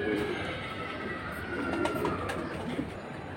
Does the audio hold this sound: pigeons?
yes